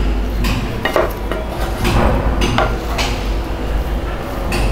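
Tomato rice being mixed in a pan, with a spoon scraping and clinking against the metal in irregular knocks and sweeps, fairly close and steady over a continuous low background hum.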